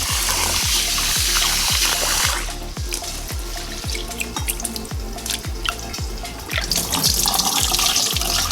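Vegetables for fried rice are washed under a running kitchen tap. A steady rush of water fills a sink, then gives way to rhythmic splashing and dripping as the food is rinsed, close and fairly loud.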